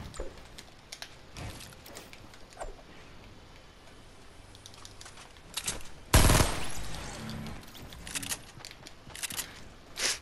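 Gunfire in a shooter video game: scattered sharp shots and a loud dense burst midway, with clicking mechanical sounds between, close and punchy against quieter background.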